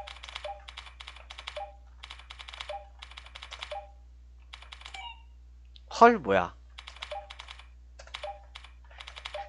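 A Logitech K120 keyboard is typed on in rapid bursts of close, crisp key clicks with short pauses between runs. A brief exclamation of surprise interrupts partway through, over a low steady hum.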